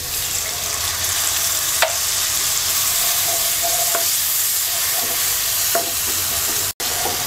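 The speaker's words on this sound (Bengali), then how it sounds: "এবার মশলাটা কিছুক্ষণ কষিয়ে নেব" Spice paste of ginger-garlic paste with chilli, turmeric and coriander powders and a little water sizzles steadily while being stir-fried in a pan, a loud continuous frying hiss broken by occasional spatula scrapes and one brief cutoff.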